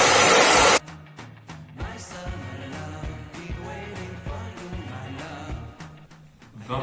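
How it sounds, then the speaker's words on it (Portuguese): Hair dryer blowing on layers of a paper mask, a loud dense rushing whoosh at the very start that cuts off abruptly, leaving quieter background sound. "Vou mais uma vez com o secador."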